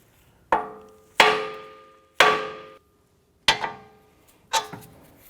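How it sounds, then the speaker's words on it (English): Five sharp metallic hammer blows on the steel steering knuckle of a 2004-2008 Acura TL to release the tie rod end, each ringing out briefly before the next, spaced about a second apart and close up. "We're going to use a hammer and we're going to strike the knuckle here to release the tie rod end."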